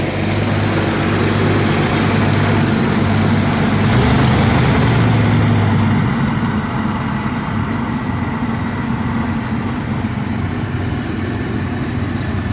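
A hot rod car engine idles steadily with its idle set slightly lower, a continuous low rumble that stays loud and even throughout, swelling a little around the middle before settling.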